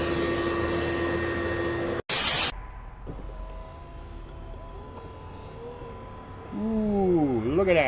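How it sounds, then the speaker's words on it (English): Windshield wipers on a 1997 Jeep Grand Cherokee start up after a loud burst of hum, sweeping with a faint mechanical whir before a rising whining sweep near the end, with no talking. "We're going to try these wipers, make sure that they work."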